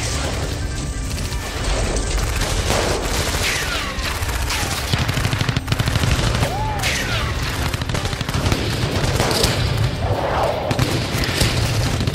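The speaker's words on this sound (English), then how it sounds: "If they wanted a firefight, that's what they'd get." Firefight with rapid volleys of gunfire, heavy thumps and crashes overlapping in a dense, continuous barrage, with shots layered near and far and a loud chaotic mix throughout.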